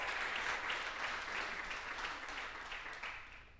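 Audience applause from a crowd listening to a spoken poem, a steady wash of many hands clapping that tapers slightly toward the end.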